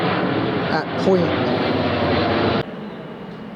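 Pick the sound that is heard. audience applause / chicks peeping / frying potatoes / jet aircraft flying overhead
jet aircraft flying overhead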